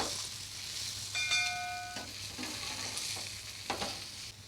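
Ragi adai, a finger millet flatbread, cooking on a hot pan with a steady close sizzle and occasional scraping or stirring clicks, plus a brief ringing metallic tone partway through; no voices.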